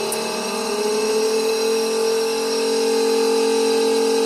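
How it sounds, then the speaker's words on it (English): Built-in vacuum pump compressor of an OCA laminating machine for LCD screens starting up, a steady droning hum that rises slightly in pitch and settles into a constant loud tone, close and unbroken, without speech. "And turn on the compressor."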